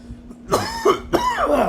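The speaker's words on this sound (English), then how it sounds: "I apologize for the cough" A pair of throaty coughs with some throat clearing, close and fairly loud, separated by a short pause.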